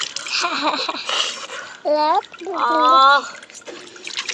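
Cold water splashing and trickling on a rooftop on a chilly morning, heard up close at the start, followed by a voice with exclamations and sung syllables.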